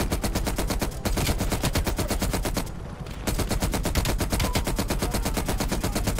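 Rapid automatic gunfire in the video game Call of Duty: Black Ops Cold War, a loud, dense stream of shots that breaks off briefly and then resumes just as fast.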